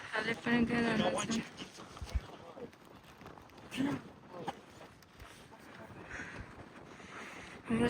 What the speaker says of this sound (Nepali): हाम्रो साङ्गेहरू चाहिँ हो त पुगिसक्यो हावा एकदम चलेछ